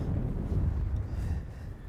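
Steady low rumbling wind buffeting outdoors on the Miramichi River while fishing for striped bass, a continuous blustery roar with no talking.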